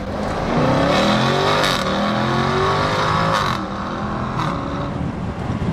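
A Jaguar Project 8 with a 640-horsepower engine accelerates hard onto a motorway, heard from inside the cabin: a loud, rising engine note climbs through the gears with short gaps at each upshift, up close and without talk.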